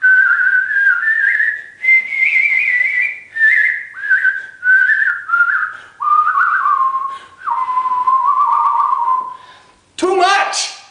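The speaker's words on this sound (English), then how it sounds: "when you hear somebody whistling something like this" A person whistles a melody in sustained notes with a heavy, wobbling vibrato, close and loud, ending in a quick sliding flourish.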